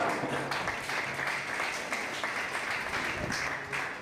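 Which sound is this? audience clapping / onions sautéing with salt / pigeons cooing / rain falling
audience clapping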